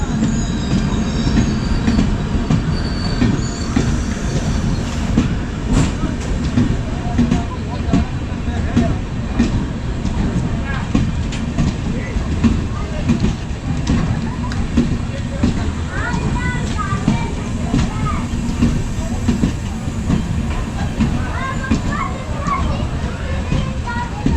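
A Porbandar Express train on the Konkan Railway rumbles past close by with rattling, clattering wheels and occasional squeals, loud and continuous, with people talking in the background.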